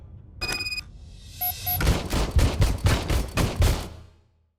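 Rapid gunfire from an old service pistol in RoboCop: Rogue City, a tight string of loud, booming shots after a couple of electronic beeps, then abrupt silence.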